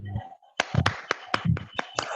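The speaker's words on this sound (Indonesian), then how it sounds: "Tepuk tangan buat Pak Helmi Eka Saputra" Scattered hand claps from a small audience at a hospital fire extinguisher training session, a handful of sharp, separate claps at uneven intervals with a faint voice at the start.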